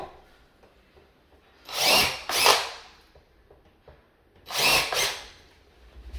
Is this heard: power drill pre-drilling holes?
yes